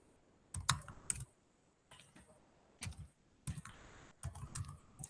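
Computer keyboard typing while writing HTML code, scattered close clicks in short bursts over a faint background hum.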